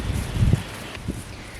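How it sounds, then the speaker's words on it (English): Wind gusting through a homestead vegetable garden after heavy overnight rain, a soft rustle of leaves with low buffeting rumble on the microphone, brief and fairly close, no talking. "Sure is windy today, huh?"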